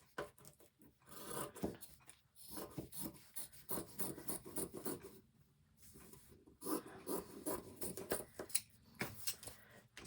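Scissors or a blade cutting through craft material for fairy bottles, close up with uneven rasping strokes and short pauses, no talking.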